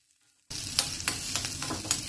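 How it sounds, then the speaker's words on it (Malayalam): Sliced small shallots sauté in a teaspoon of hot coconut oil in a pan for a raw banana curry, a close, steady sizzle broken by several sharp stirring scrapes, with no voices. "അടുപ്പത്ത് ഒരു പാനിൽ ഒരു ടീസ്പൂൺ വെളിച്ചെണ്ണ ഒഴിച്ച് ചൂടാക്കി അതിലേക്ക് ഒരു 10 ചെറിയ ഉള്ളി മുറിച്ച് ചേർത്ത് വഴറ്റി"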